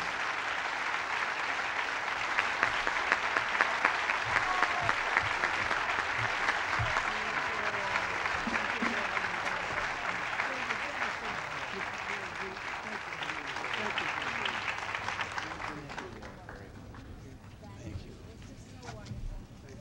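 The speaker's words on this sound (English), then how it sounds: "give a round of applause" Audience at a big band concert gives a sustained round of applause, a broad wash of clapping that holds for about fifteen seconds before fading, with voices audible underneath and afterward.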